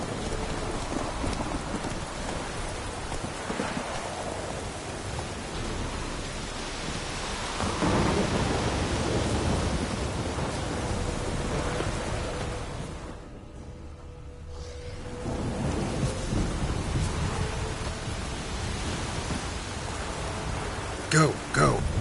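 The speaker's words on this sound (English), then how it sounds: "Lightning strike." A thunderstorm in the video game The Witcher 3: Wild Hunt, with steady heavy rain and rolling thunder throughout, a brief hush midway, and a sharp lightning crack near the end.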